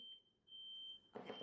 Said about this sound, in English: I don't know why an alarm is going off in the middle of nothing.